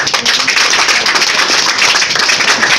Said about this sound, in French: Applaudissez pour Jésus